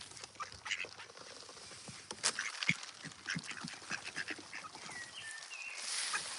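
Ducks quack in a scattered, irregular chorus outdoors, a mix of nearer and farther calls at moderate volume with no one speaking.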